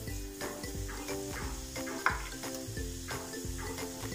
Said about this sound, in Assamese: পানীখিনি গৰম হওঁতে ইয়াতে মই একাপ চেনি লৈছিলোঁ, এই চেনিখিনি ইয়াতে এতিয়া ঢালি দিম।